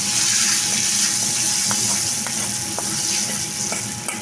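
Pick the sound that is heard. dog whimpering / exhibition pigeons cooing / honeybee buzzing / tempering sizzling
tempering sizzling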